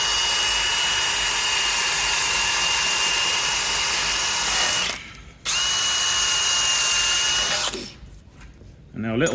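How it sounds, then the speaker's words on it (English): A handheld drill spinning a small wire brush attachment scrubs dirt out of the front wheel bearing housing of an Alfa Romeo 159/Brera, a loud steady whine broken by two brief pauses and ending with a short stop. "just use a drill with a little wire brush attachment just to clean all the crap off"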